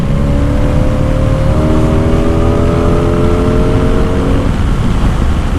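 A Honda Magna V4 motorcycle engine runs steadily with a smooth, even drone and no obvious revving, loud and close throughout with no voices.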